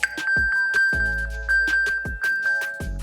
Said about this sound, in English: your watch will trigger a sound on your phone so that you can find it by ear